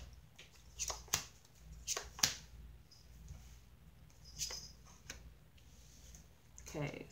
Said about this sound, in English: I'm going to pull all cards straight from the top. Stop shuffling.